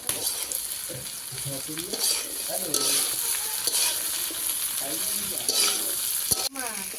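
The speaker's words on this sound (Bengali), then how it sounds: "শুটকিগুলো প্রথমে ভাজা নিয়েছে এখন আলু ভাজার পর শুটকিটা দিয়ে দিছে" Dried fish frying with potatoes in a pan gives a loud, continuous sizzle with steady stirring and scraping, and faint voices in the background.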